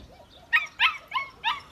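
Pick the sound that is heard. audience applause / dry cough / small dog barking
small dog barking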